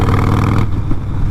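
A 2020 Harley-Davidson Roadster fitted with a Vance and Hines fuel pack rumbles steadily while riding. Its loud, low engine drone runs alone for about half a second, then drops away into a quieter burble.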